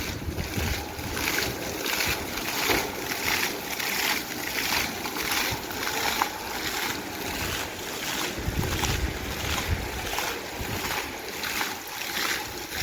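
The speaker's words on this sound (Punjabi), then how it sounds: "ਸਿਟੀ ਸੈਂਟਰ ਦੇ ਵਿੱਚ ਪਾਣੀ ਦੇ ਫੁਹਾਰੇ ਚੱਲਦੇ ਹੋਏ" Decorative water fountains run in Wolverhampton city centre, a constant rushing spray with rhythmic pulsing surges, heard from nearby in an open outdoor space.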